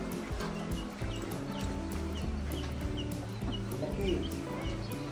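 A rooster and hens cluck repeatedly at close range in a farmyard where a buffalo is being milked. The clucking runs over a noisy, busy background.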